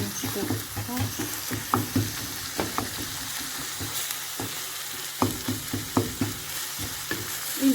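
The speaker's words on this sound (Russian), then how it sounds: "И теперь разомнем хорошенечко фарш." Minced meat being mashed as it fries in a pan, a continuous sizzle broken by repeated scraping and pressing strokes of a utensil in an uneven rhythm, fairly close.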